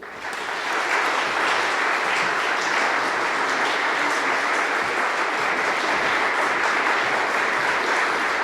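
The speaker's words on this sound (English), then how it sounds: "Please give Bill a very warm round of applause and welcome him to the stage." A large concert audience claps steadily and loudly, a sustained round of applause that swells in the first second and holds evenly to the end.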